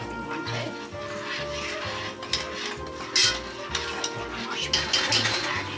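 Stirring a pot of fudge in a home kitchen sets off soft scraping and clinking, with faint sparse knocks of utensil against pot under a steady background hum.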